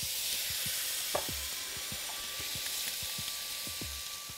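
Sauce with oyster sauce, black soy and Shaoxing rice wine sizzling in a wok while being stirred, a steady quiet hiss with soft scraping strokes of the utensil recurring throughout, no voices.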